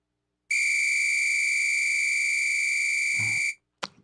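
A single steady, pure whistle tone holds for about three seconds alone in a quiet room, then stops, followed by a brief faint rustle and a short chirp.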